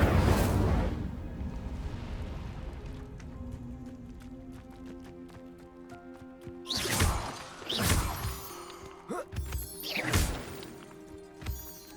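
In Hogwarts Legacy, an Incendio fire spell goes off in several bursts of roaring, crackling flame, loud whooshes following a faint ambient stretch.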